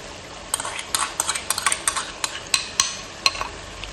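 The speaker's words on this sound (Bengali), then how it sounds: "এখানে 100 গ্রাম দই আছে, দই দিয়ে দিচ্ছি।" Yogurt stirred into a hot sizzling pan for a home-cooked dish, with repeated scraping clinks of a metal spoon against the pan over a soft, steady sizzle.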